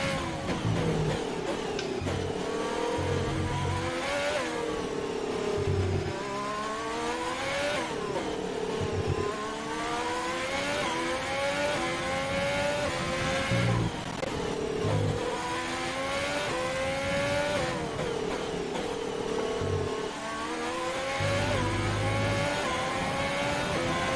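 A Ferrari Formula 1 car on a hot lap at Abu Dhabi in the F1 2020 video game screams continuously, its engine pitch rising and falling repeatedly through gear changes, loud and close with no voices.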